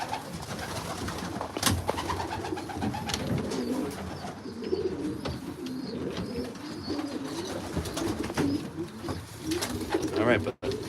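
Racing pigeons coo steadily in an aviary, soft repeated low murmuring calls from several birds overlapping throughout, with occasional wing flutters and a short rustle near the end.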